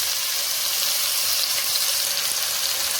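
Ginger garlic paste sautés in a pan, giving a steady, close hiss and sizzle that stays even and unbroken from start to finish.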